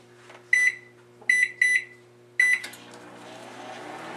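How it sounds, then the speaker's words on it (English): A microwave oven heating milk and thyme beeps four times, short bright tones close by, over a steady low hum that is followed by a rustle. "microwave it uncovered until you see bubbles on top"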